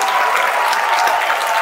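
A studio audience breaks into applause, a dense, continuous burst of clapping that stays loud and even from start to finish with no talking.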